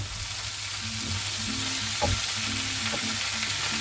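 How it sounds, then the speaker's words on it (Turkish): Spinach sizzles steadily as it fries in a pan, a continuous loud hiss with a couple of faint clicks from stirring, and no voices. "Ispanağı da ekliyorum."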